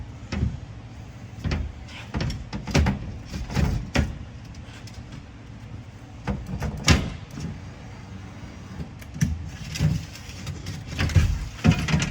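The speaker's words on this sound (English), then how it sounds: "that door glass pops in there" Rear door glass on a 2007-2014 Cadillac Escalade is worked into the door, giving a series of close, irregular thumps, knocks and plastic clunks as it shifts and pops into place.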